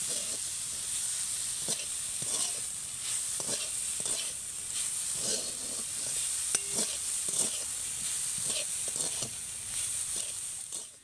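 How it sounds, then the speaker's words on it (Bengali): Grated coconut being stirred into hot sugar syrup in a pan, a steady high sizzling hiss broken by repeated scraping stir strokes at an uneven rhythm, close and fairly loud, with no voices. "নারকেল কোড়াটা দিয়ে কিন্তু চিনির রসের সাথে খুব ভালোভাবে নেড়েচেড়ে পুরটা তৈরি করে নিতে হবে"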